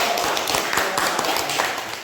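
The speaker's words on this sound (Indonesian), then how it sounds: "Beri tepuk tangan dulu." A classroom gives a group its applause after a presentation, dense overlapping hand claps near and loud throughout, easing slightly at the end.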